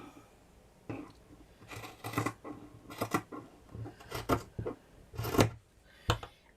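Scissors cut through a sock just below the heel, giving a close series of sharp snips and crunching fabric bursts in uneven clusters with short pauses between cuts and no talking.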